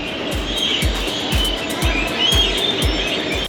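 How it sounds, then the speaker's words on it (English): Escalators at the Genoa, Italy cruise port give a high, squealing screech like seagulls, running continuously over a busy indoor hum, with regular low thumps repeating about every half second. "these escalators that sound like screeching seagulls"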